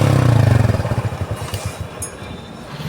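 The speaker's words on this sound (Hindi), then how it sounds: "न्यूट्रल बाइक और हम स्टार्ट करते हैं" A Honda CD110 motorcycle fitted with a modified exhaust and dB killer, parked at a welding shop, its engine thumping in fast, even low pulses that fade into a rougher, quieter idle with some clatter.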